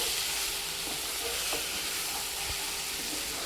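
Chicken masala gravy cooks over a low gas flame, giving a steady, soft, even sizzle with a broad hiss and a few faint scraping stirs.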